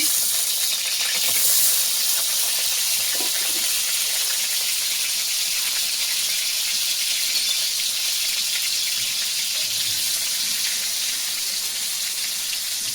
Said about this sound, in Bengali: আলু দুটো ভেজে নেব